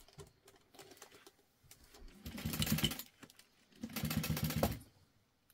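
A sewing machine topstitches a folded seam allowance onto the lower side panel of a vinyl tote bag, running in two sustained bursts of rapid, even stitching, each about a second or more, with quiet pauses and light handling sounds between them.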